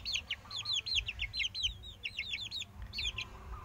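Saigon and Pama crossbreed fighting chickens give rapid repeated clucks and chirps in quick bursts, fairly faint and close, over a low background hum without talk.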